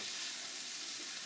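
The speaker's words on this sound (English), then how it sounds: "we're going to go ahead and add in some black beans" Rinsed canned black beans tumble into a hot stir-fry pan for a southwestern dish, setting off a steady, broad sizzle of frying that holds close and even throughout without any talk.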